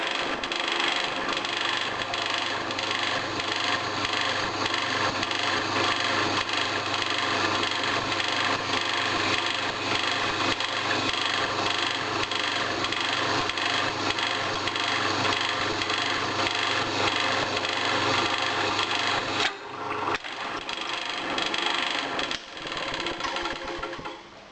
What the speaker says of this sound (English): I'd like to drill a hole through the ingot and see what it drills like.